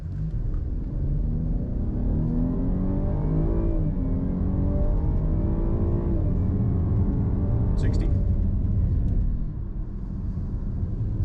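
A Chevrolet Blazer RS pulls hard from a standstill to 60 mph, its engine a deep, steady rumble heard from inside the cabin, rising and shifting through gears, with someone talking over it.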